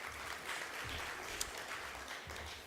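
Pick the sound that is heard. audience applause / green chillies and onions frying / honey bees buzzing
audience applause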